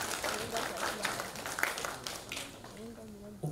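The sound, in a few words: audience applause for panelists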